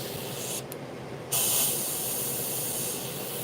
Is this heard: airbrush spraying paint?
yes